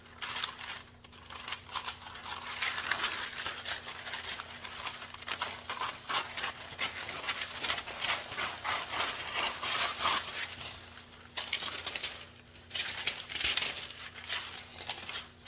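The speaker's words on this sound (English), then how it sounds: "Cut some of that parchment paper off." Parchment paper is cut and handled in a kitchen while making a cheesy hamburger casserole, giving soft crinkling, rubbing and snipping sounds in irregular bursts over a faint steady hum.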